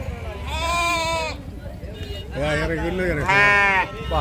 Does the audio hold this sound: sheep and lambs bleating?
yes